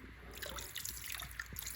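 Water ager dechlorinator poured into fish pond water: a short, close trickle of small drips and splashes over a low background rumble.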